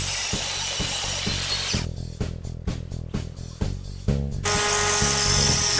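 A power saw cuts a cedar 2x4, loud and close, with a run of rhythmic bursts and pauses as the blade bites the wood, then a steady high whine as it spins freely.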